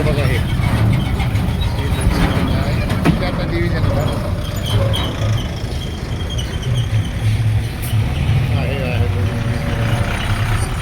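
A loaded truck creeps slowly along a dangerous stretch of the Khamgaon–Pandharpur road, its low engine rumble continuous and fairly close, with voices talking over it.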